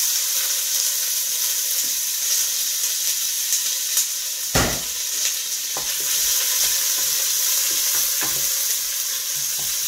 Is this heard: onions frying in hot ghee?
yes